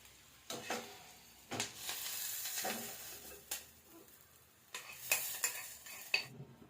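Fried food is scraped and scooped from a pan onto a plate in a few separate bursts of clinking and scraping, with a faint sizzle underneath.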